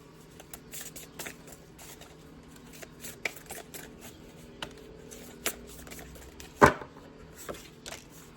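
Tarot cards are shuffled by hand in quiet, soft bursts of riffling and tapping, scattered over several seconds, with one louder snap near the end.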